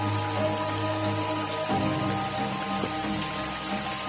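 Small clear jungle stream trickling over rocks in a mountain forest, a steady close splashing babble with scattered drips, continuous and unaccompanied by voices.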